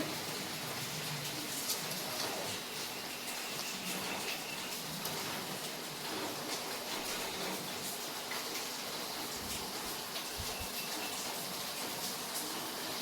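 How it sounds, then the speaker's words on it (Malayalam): Turmeric water is poured into hot oil while jackfruit chips fry, giving a continuous, fairly faint crackling sizzle and hiss, with no speech over it. "ഒരു ചെറിയൊരു കിലികിലി പോലത്തെ സൗണ്ട് വരുമ്പോഴാണ് നമ്മൾ മഞ്ഞൾ വെള്ളം ഒഴിച്ചു കൊടുക്കേണ്ടത്"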